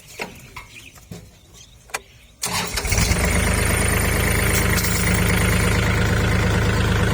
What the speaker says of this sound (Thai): เดี๋ยวผมติดสตาร์ทเครื่องให้